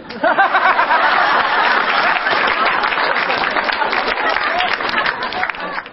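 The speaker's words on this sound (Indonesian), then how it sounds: "Tepuk tangan buat saya." A stand-up comedy show audience breaks into loud, dense applause mixed with crowd noise and chuckles, sustained steadily throughout.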